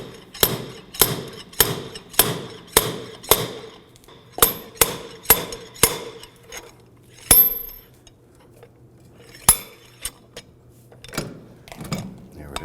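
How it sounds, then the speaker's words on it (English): Slide hammer striking repeatedly to pull a stuck rear brake drum off a 2008-2011 Ford Focus, sharp metallic bangs in a steady rhythm of about a dozen blows, then a few scattered knocks, close and loud. "we ended up installing our slide hammer because we could not get our drum off"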